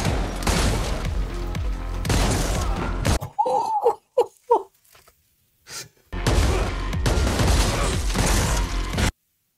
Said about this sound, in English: Them bullets are insane.